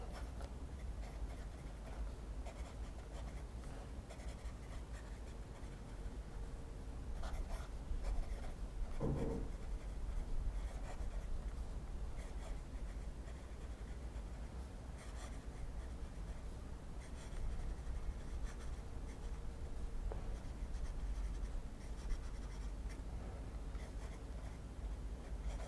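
A steel medium Jowo number 6 fountain pen nib writes across paper with a faint, continuous scratch and small irregular strokes, heard up close in a quiet room.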